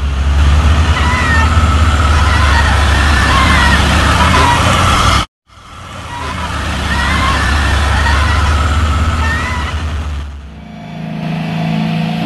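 A heavy truck engine roars loudly and steadily on the steep Bukit Kodok incline, briefly cut off, then revving hard again before easing down at the end.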